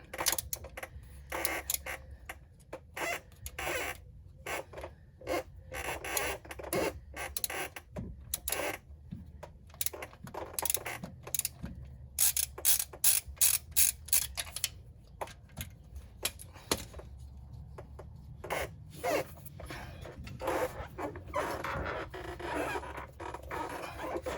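Rapid bursts of close, sharp clicking from a large ratchet breaking loose and turning the starter bolt on a 2006 Ford Mustang 4.0 V6, in uneven runs with short pauses between strokes.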